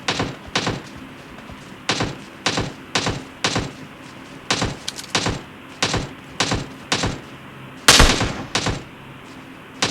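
Gunfire in a battle royale shooter match: sharp single shots crack out in an irregular rhythm, roughly a dozen close, loud reports with brief gaps between them and one heavier blast near the end, with no voices.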